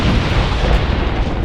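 Detonated charges explode in Dragon Age Inquisition, a loud, sustained rumbling blast that fills the whole stretch with dense, roaring noise and no voices.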